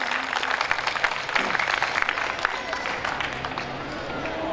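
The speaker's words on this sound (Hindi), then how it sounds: "एक बार जोरदार ताली" An audience at a Hindi poetry gathering applauds, with dense, steady clapping that fills the whole stretch loudly and evenly, broken by scattered crowd noise.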